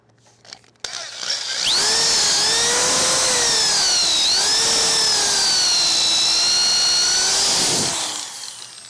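A power drill bores into wood through a drill guide while building a drop leaf end table, a loud close whine that spins up, holds for several seconds with slight pitch dips under load, then winds down.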